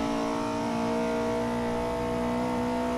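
Steady, loud drone of a 1968 Porsche 908 LH race car engine under power at the Nürburgring, holding a constant pitch with a buzzing, sustained tone close to the microphone.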